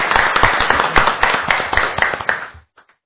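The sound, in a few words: audience applause welcoming a speaker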